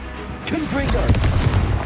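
A Confringo spell explosion in Hogwarts Legacy bursts into a loud, broad blast that rumbles and sustains briefly amid game combat noise.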